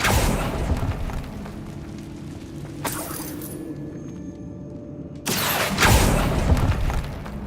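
An Incendio fire spell goes off in Hogwarts Legacy, a loud booming burst of flame that rumbles and fades, followed a couple of seconds later by a second heavy blast of fire that swells and roars.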